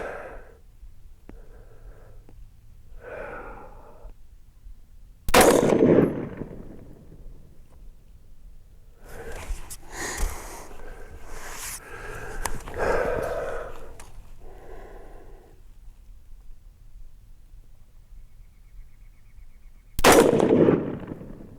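Two sharp, loud rifle reports from an AR-15 fitted with a Bear Creek Arsenal upper, fired at 50 yards about fifteen seconds apart, with quieter talk and handling noises in between.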